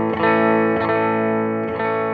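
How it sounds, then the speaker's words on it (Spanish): Electric guitar played through a Marshall Origin 50 amplifier set clean with no effects, three sustained strummed chords ringing loud and full, each new strum cutting in roughly every second with a bright attack. "Ahí estamos escuchando el amplificador limpio, sin nada."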